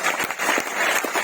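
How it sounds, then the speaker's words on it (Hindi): Brief burst of audience applause at a business stage event, a second or so of dense clapping with a few sharper individual claps standing out. "जोरदार ताली गुप्ता सर के लिए मैं चाहूंगा।"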